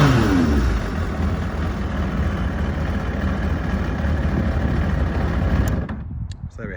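A 1993 Kawasaki ZXR 750 L1 sport motorcycle with about 17,000 miles revs loud and close. The engine spins up briefly, then holds a steady high drone before cutting off abruptly near the end.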